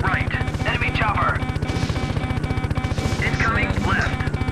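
In the Gunship video game, an enemy helicopter's rotor throbs in a fast, steady pulse while bursts of gunfire crackle over it, loud and close, with intermittent talk from the player.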